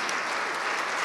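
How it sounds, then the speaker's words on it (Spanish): A short burst of audience applause for KOICA at a government event supporting entrepreneurs, a steady wash of clapping, fairly soft and with no talk over it. "un aplauso a COICA también."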